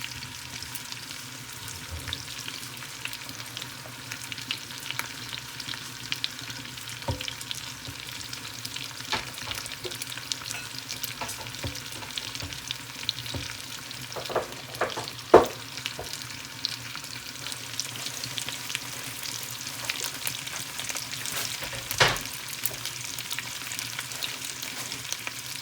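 Onions frying in a Remoska electric cooker, a faint, even sizzle with scattered soft clicks and occasional sharper taps from stirring, heard alone at low volume.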